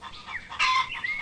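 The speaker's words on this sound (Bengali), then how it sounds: "মুরগিকে ইংরেজিতে বলে চিকেন" A single chicken gives a short, clear clucking call, close and fairly loud, lasting about a second.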